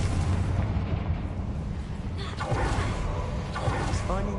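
The Confringo explosive spell in Hogwarts Legacy: a continuous roaring burst with crackling pops, loud and close, under dense game noise.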